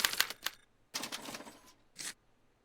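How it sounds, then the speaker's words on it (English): Mechanical typewriter clatter in a Back to the Future video game as it prints a punch card: three bursts of rapid striking and whirring, separated by short pauses, with no voices. "they're relayed to this special typewriter, which prints out a punch card that represents the subject's mind map"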